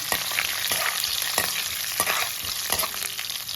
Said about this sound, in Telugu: ఇప్పుడు పప్పులు వేసుకోవాలండి జీలకర్ర కూడా వేసుకొని ఇప్పుడు ఎల్లుల్లి గడ్డలు కూడా వేసుకోవాలండి కలుపుకోవాలండి